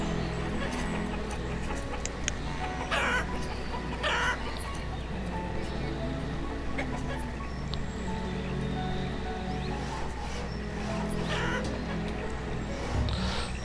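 Chickens cluck in the village-building game Banished, a scattered run of clucks over a steady ambient game background that lasts throughout.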